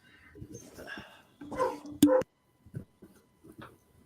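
Dogs bark, yip and whimper in the background in a few short irregular bursts, fairly faint with one sharper bark standing out.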